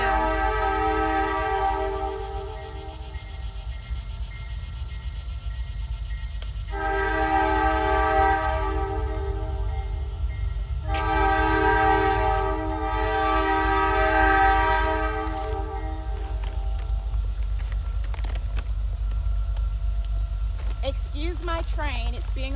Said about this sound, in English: Excuse my train. It's being a little disrespectful talking while I'm trying to talk.